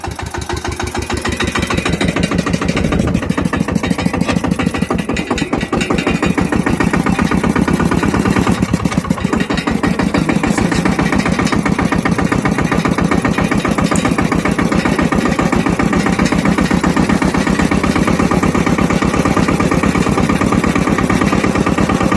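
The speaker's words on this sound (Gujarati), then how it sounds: "જો ટ્રેક્ટર પીડ્યું છે રસ્તા ઉપર." A tractor engine runs on a village road in a steady, loud, close diesel chug, its rapid rhythmic pulsing continuing unbroken from start to finish with no voices.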